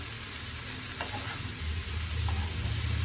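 A spoon stirs a green peas curry in a pan, seasoned with chili powder and coriander powder. Soft scraping runs over a steady frying sizzle that grows a little louder toward the end, with no talk.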